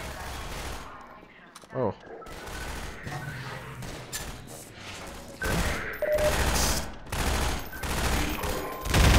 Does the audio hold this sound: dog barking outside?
no